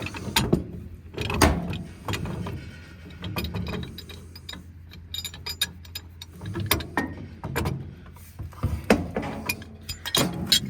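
A wrench working loose the threaded fitting on a pool heater's gas valve, giving a run of close metallic clicks, ratcheting scrapes and clinks in uneven bursts, with no talking.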